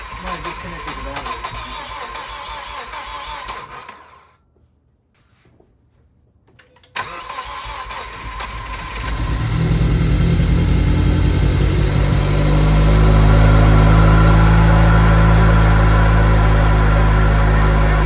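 A Ford Focus repaired after a fire cranks and fires up for its first start, the engine catching with a rising roar and settling into a loud steady idle close by, with people talking under it.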